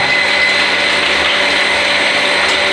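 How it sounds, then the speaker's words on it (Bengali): An electric motor whines loudly and steadily in a home kitchen while potatoes fry and rice cooks, a constant droning hum with a bright whirring edge and no voice over it. "আর শব্দ হচ্ছে কি মোটরের ঘ্যান ঘ্যান ঘ্যান আওয়াজ"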